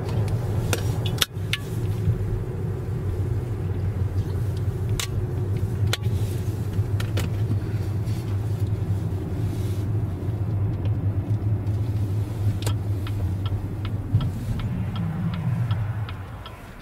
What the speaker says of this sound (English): did this line of cars wait until I got here?